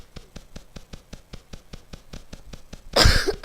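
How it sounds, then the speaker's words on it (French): A steady series of soft, regular knocks gives way to a loud, harsh cough close to the microphone. "Je vais que tousser, c'est horrible."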